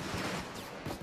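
Sniper fire in PayDay 2, a few sharp cracking shots in quick succession amid loud game noise, close and punchy with no speech.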